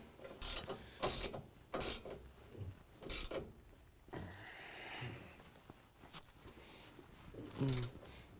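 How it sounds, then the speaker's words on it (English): A ratchet tightens a 24mm nut joining the drag link to the pitman arm on a 2017 Ford F-250 Super Duty during a lift kit install, rapid clicking bursts repeating several times with short pauses. "Now we can tighten down our nut. That's a 24mm."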